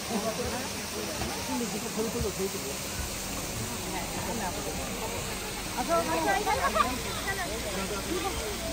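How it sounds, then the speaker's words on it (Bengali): An artificial fountain splashes at night in Rangpur, its steady broadband water hiss running the whole time with a brief swell of louder splashing late on, while voices and crowd chatter murmur underneath. "একটা আর্টিফিশিয়াল ঝর্ণার ব্যবস্থা করেছে।"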